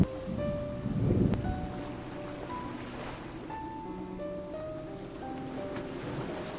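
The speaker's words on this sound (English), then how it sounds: "the men woke up to light rain the next morning" Light rain falls at sea, a soft steady patter over gentle wave wash with scattered faint tonal sounds, quiet and ambient throughout.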